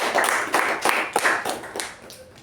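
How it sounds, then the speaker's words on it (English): Round of applause at a speaking club meeting, a handful of people clapping in distinct, fairly quick claps that gradually thin out and fade toward the end. "Let's give a round of applause to both the distinguished"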